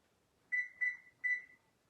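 Kitchen timer beeping while making fat head pizza: three short, clear electronic beeps, the first two close together and the third after a brief gap, in a quiet room.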